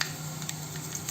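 Mustard seeds hit hot oil in a pan alongside chana dal, giving a soft, steady sizzle with faint scattered pops and crackles, quiet and close.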